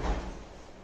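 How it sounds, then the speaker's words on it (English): A sliding wardrobe door in a 3 BHK flat interior gives a short, low rumbling glide, close and soft, lasting under a second with no voices. "So here we have a sliding door."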